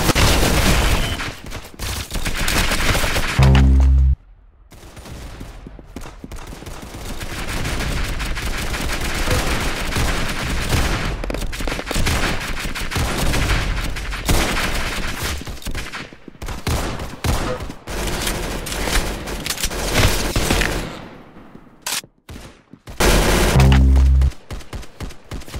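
Gunfire in the video game Roblox, loud sustained bursts of rapid shots and booms with brief pauses and near-silent gaps, no speech over it.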